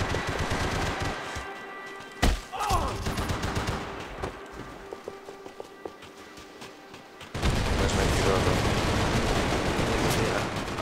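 Gunfire in Max Payne 3 multiplayer: a sharp shot early on, scattered bursts through quieter game noise, then a dense, loud stretch of continuous firing toward the end.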